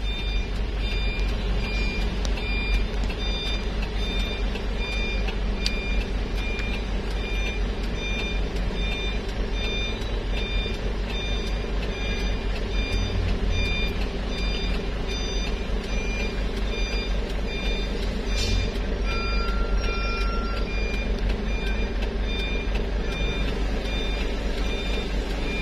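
An overloaded Hino truck idles and rumbles nearby, reversing in a traffic jam on a mountain road, while its reversing alarm beeps in a steady, regular rhythm throughout.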